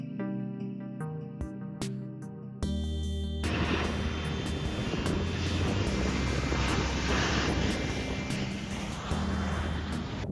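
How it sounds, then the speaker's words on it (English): A Ryanair airliner landing on a runway: after a few sharp knocks, a loud steady roar of jet engines and rushing wind takes over and holds for several seconds, heard from nearby without talking. "there is a Ryanair landing."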